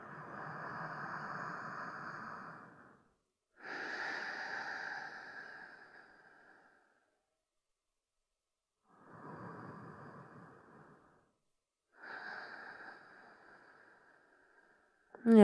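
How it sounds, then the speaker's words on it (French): Deep Ujjayi yoga breaths during a winter vinyasa session, four long, airy breaths close to the mic, each lasting a few seconds and separated by short silent pauses, with no talking. "On rentre doucement dans la respiration Ujjayi."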